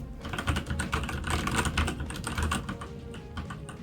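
Steady, fast typing on a pink CQ84 mechanical keyboard with brown switches, a close, continuous patter of soft tactile key clicks and thocks with no talking.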